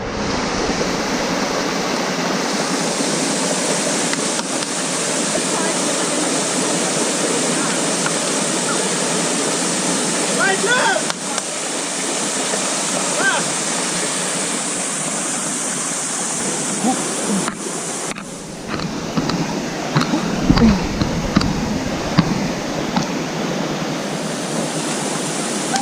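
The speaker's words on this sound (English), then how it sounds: "When you first arrive, it just looks like a normal waterfall." River waterfall in Trindade, Brazil, a loud continuous roar of rushing water heard up close, with wind buffeting and light handling noise near the end and no clear talk.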